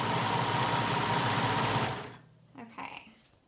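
A sewing machine runs steadily and loudly as it stitches a long dress side seam, then stops abruptly about two-thirds through, leaving a quiet tail with a faint voice.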